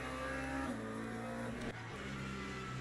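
A Vanwall hypercar in the racing game Le Mans Ultimate roars past with a loud, sustained engine drone. The pitch shifts partway through as it goes by, over steady race audio.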